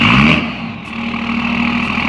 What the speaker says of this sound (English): Whether that's the sound of the engine,